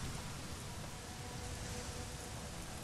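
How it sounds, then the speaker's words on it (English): Steady rain falls in the video game Days Gone, a dense, even hiss of drops that fills the whole clip with no pauses and no voices. "Why is it always raining?"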